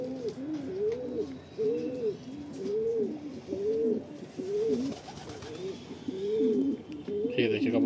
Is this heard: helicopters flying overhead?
no